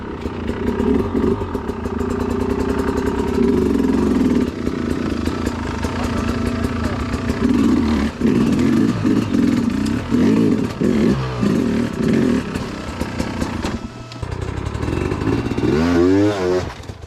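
A hard enduro motorcycle climbs a rocky section of trail, its engine droning loud and steady with constant revving and clattering throughout, with voices faintly present.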